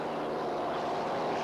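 A hydroplane race boat powered by a turbocharged Allison aircraft engine drones with a steady, dense roar on a gray day in Syracuse, New York, sustained and fairly distant with no break.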